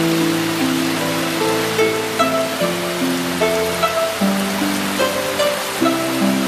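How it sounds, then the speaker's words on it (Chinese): Steady rain hisses over the whole stretch as a constant wash of noise, with sustained musical tones playing over it and no speech. "你看下雨了。"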